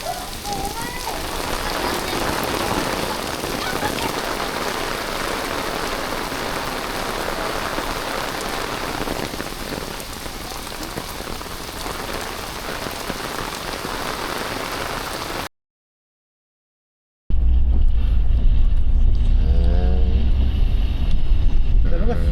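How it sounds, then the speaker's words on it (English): Heavy rain pours down on a Nagasaki city street in a dense, continuous roar, then cuts briefly to silence before resuming with a rougher, windier patter. "Really pouring rain."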